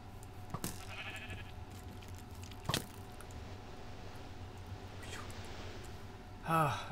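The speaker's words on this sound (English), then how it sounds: "all we have to do is place down our sheep and kill it" Sheep bleating in the Minecraft video game, a short wavering bleat near the end of the clip over a steady game background with a few sharp clicks earlier.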